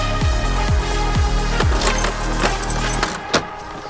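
House keys jangle and clink as they are handed over, a busy metallic rattle running through the clip over a low rumbling background, with a few deeper thuds early on.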